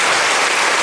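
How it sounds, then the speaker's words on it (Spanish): A congregation at a patronal feast in San Juan Cieneguilla, Oaxaca, applauds to thank the bishop, a brief, loud, dense burst of many hands clapping together. "con un aplauso vamos a agradecer al Señor Obispo que nos ha presidido"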